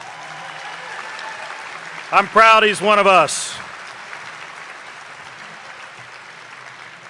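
Applause for Congressman Mike Waltz at a Republican Lincoln Day dinner, a broad crowd wash heard under a voice speaking over a microphone in the middle.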